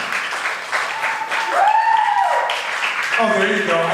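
Applause and some cheering from an open mic night audience at a bar, moderately loud and continuous, with a whistle or vocal glide rising midway and voices mixed in.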